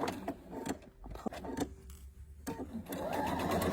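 A home sewing machine runs a quarter-inch seam on a quilt block, its motor whirring in short bursts with brief pauses before settling into a steady, close, continuous stitching run.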